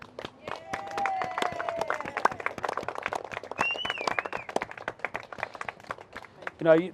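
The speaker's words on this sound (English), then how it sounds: "you've got to give them a round of applause for that" Wedding guests clapping for the couple, a scattered patter of hands running under someone speaking over the crowd, with a brief louder burst near the end.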